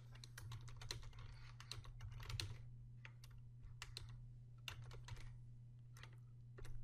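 A computer keyboard clatters as text is typed into Illustrator, quick irregular bursts of crisp, close key clicks over a steady low hum.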